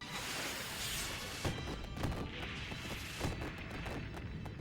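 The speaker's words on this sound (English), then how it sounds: "He wasn't kidding about those fireworks." Fireworks in a Robotech anime episode burst as a dense, roaring wash of crackling blasts with a few sharper booms, loud and continuous for several seconds.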